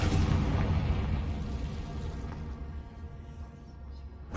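A Confringo fire spell explodes in Hogwarts Legacy, starting as a loud booming burst that rumbles and decays over several seconds.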